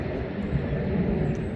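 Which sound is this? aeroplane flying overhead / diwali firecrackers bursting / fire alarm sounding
aeroplane flying overhead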